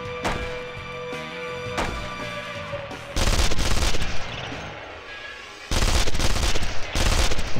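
Repeated gunfire from the PC shooter game Contract J.A.C.K., loud bursts of rapid machine-gun-like shots in two sustained volleys with heavy low booms, after earlier sharp single shots, with no talking.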